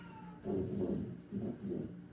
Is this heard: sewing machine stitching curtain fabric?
no